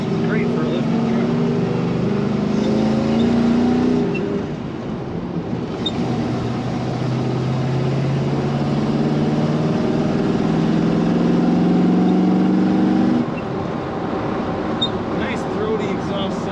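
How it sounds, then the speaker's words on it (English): A lifted 1984 Chevrolet K10 truck on the road, its engine and throaty exhaust droning loudly and steadily, rising in pitch under acceleration midway, with someone talking over it. "Nice throaty exhaust sound in this truck."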